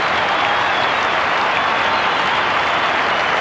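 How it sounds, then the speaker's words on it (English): Sustained crowd applause fills a football stadium after an Essendon v Adelaide match in 1995, a dense, steady roar of clapping with no break and no talk over it. "Let's listen to this applause"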